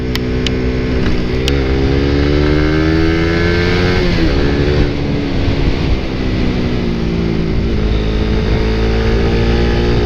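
Fuel-injected Suzuki Satria FU motorcycle, a Black Predator edition, revving steadily up close, the loud engine note rising and falling in pitch for about ten seconds with no one talking.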